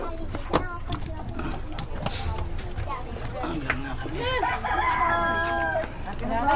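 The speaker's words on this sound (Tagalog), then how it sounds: "may mga manok" A rooster crows loudly among clucking chickens nearby while people talk over the birds throughout.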